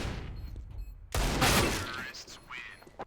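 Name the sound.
rifle tapping shots at long range in Counter-Strike video game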